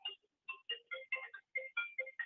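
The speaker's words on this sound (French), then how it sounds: "le téléphone d'Olivier Lanier est en train de sonner" A 3CX IP phone rings with an incoming web visitor call during a business phone system demonstration, giving repeated short electronic ring bursts in a steady rhythm, close and clear with no talk.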